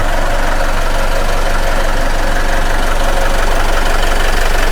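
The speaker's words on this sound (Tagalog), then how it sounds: "Ito yung engine natin mga bossing. Tahimik na tahimik." A 2023 Isuzu Travis L utility van with a manual transmission idles at close range, giving a steady, even rumble with a faint rapid knock and no one speaking.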